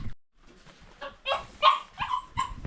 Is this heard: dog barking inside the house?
yes